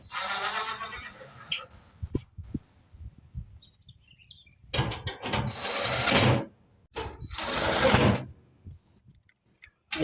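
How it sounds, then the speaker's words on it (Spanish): A squeaking clothes dryer gives shrill, chirping squeals in irregular bursts, some long and some brief, with quiet thumps and mechanical rattles between them. "hacía un ruido, pero parecían que chillaban ardillas"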